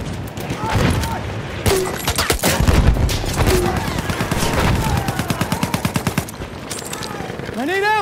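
Machine gun fire rattles in rapid sustained bursts during a Battlefield 1 team deathmatch on the Amiens map, loud and close, layered with booming explosions and shouted voices.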